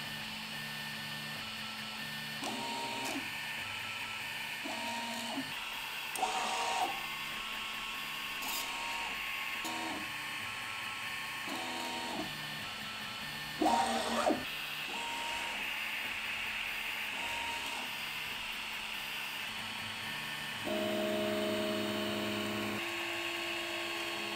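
A Prusa i3 MK2S 3D printer sitting on a concrete base runs with shifting stepper-motor whines and short buzzing moves over a constant fan hum, recorded close and without voices.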